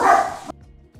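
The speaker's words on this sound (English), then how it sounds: "I had to tell the dog to shut up." A dog barks once loudly and close by in a room, a sharp burst that cuts off abruptly, followed by faint low household noise.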